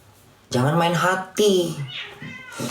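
A cat meows close and loud, two drawn-out wailing cries in quick succession followed by a softer trailing call.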